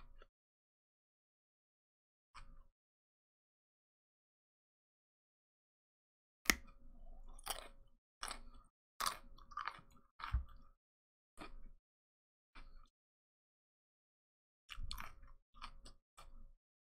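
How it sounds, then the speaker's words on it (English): Crunchy food is chewed close to the mic in a quiet room, with a few isolated crunches early on and then clusters of crisp, irregular bites and crackles separated by silences. "you gotta deal with my crunching"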